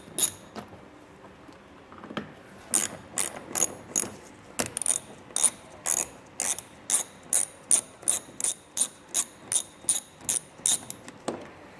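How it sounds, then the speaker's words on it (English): A socket and ratchet loosen panel screws on a 2022 Ford during a trailer hitch install, with crisp close-up clicking in quick regular bursts, sparse at first and then a long steady run of ratchet strokes. "I'm just going to be using a socket and ratchet for this."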